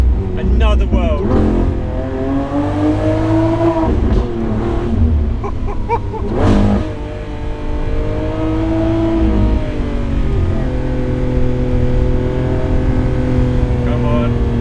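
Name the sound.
Lamborghini Aventador SVJ Roadster engine accelerating in low gear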